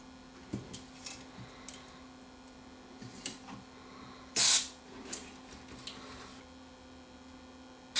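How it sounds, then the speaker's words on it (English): A single short, loud burst of spray cleaner is squirted into the controls of a Pioneer SX-434 stereo receiver during restoration. It is set against a steady mains hum with a few faint clicks and handling taps around it. "let's get in there with a cleaner and clean the controls."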